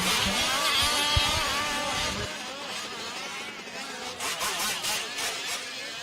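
1/5 scale RC race cars, some running nitro, circle a track at a national event with buzzing, rising and falling engine whine, loud and close at first, then thinner and farther off as they pass.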